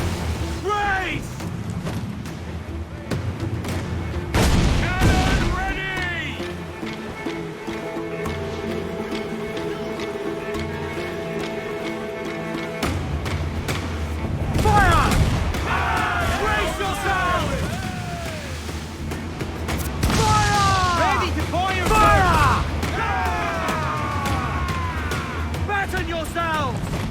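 Ship cannons fire in the Assassin's Creed Black Flag video game, with several heavy booms spread through a long stretch of shouting voices and battle noise at sea.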